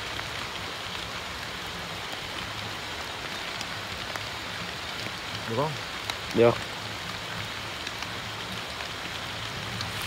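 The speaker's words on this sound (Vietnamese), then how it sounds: "À trời mưa." Steady rain patters and hisses continuously during night fishing outdoors in Vietnam, with a brief word spoken in Vietnamese and a couple of soft knocks partway through.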